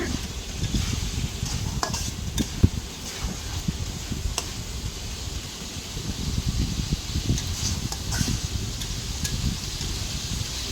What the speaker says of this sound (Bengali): এখন নেড়ে চেড়ে নেব আমি এটা।